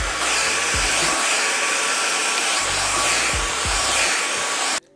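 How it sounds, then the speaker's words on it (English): Steady, loud whoosh of a Pattern blow dryer running on fan speed 2 and heat 2, a continuous airy roar with faint low fluctuations that cuts off abruptly near the end. "Let's see if level 2 makes a difference for like a couple seconds."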